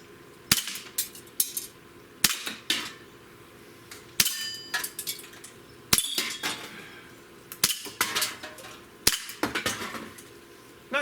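Colt Commander 1911 blowback BB pistol fired from 32 feet at a shotgun shell target, a string of sharp metallic pops and clinks spaced about a second or two apart, each ringing briefly.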